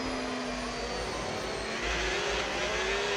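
A race car engine in a racing video game drones steadily on a warm-up lap, a loud continuous whine that slowly rises in pitch, with no talk.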